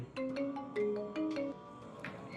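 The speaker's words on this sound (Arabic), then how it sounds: "اهي بتكلمك في التليفون اهي، رد عليها" A telephone rings with a melodic electronic ringtone in an Egyptian TV drama scene, a quick run of bright stepped notes that repeats at moderate loudness with no voices over it.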